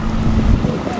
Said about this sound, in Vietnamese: Chiếc ghe lưới bao.